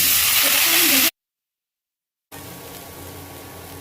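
Potatoes frying in hot oil in a home kitchen for a futi curry, giving a loud steady hiss that cuts off into a second of silence, then returns quieter with a faint low hum.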